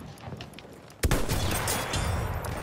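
Gunfire in the Battlefield 1 video game: a sudden loud burst of shots erupts about a second in and keeps rattling densely, filling the rest of the short stretch.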